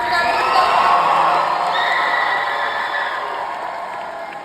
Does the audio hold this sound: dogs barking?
no